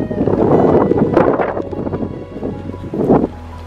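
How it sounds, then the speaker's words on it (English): Strong, gusty wind on a mountain top buffets the microphone in loud continuous roaring surges, easing briefly before another heavy gust near the end. "it's really windy up here"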